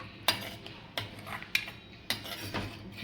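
A utensil scrapes and taps against a pan four or five times in an uneven rhythm while stirring curd for Kathiyawadi dahi tikhari, with quiet kitchen sounds between the knocks.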